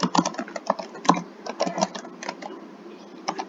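Fingers tap out quick irregular bursts on a computer keyboard, crisp close clicks with short pauses between groups of keystrokes.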